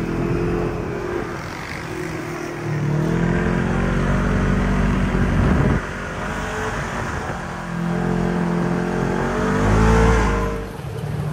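A dune buggy engine drones and revs while driving across desert dunes, a loud, continuous rumble that swells and eases with throttle changes throughout, with no voices.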